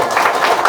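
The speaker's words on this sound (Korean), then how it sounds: "박수 좀." Audience applause at a Korean book talk event, a dense, steady burst of clapping filling the short moment at close range.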